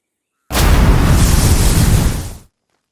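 A single dynamite blast in Red Dead Online, a loud close boom that starts abruptly and rumbles for about two seconds before cutting off into silence.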